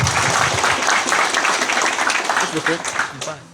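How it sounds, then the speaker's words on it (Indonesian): Audience applause at an accreditation ceremony for STM Manokwari, a broad steady wash of clapping over 3.5 seconds, with a voice speaking over it near the start. "Saya berikan aplaus sekali lagi."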